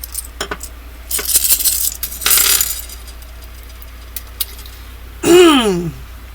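Dice rattle and tumble across a hard surface during a fortune-telling reading, in two short close bursts about a second apart, followed later by a brief vocal-like swoop.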